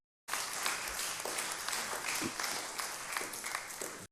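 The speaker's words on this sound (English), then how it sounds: "Give him a round of applause." Steady applause from a crowd, many hands clapping continuously at moderate loudness for several seconds.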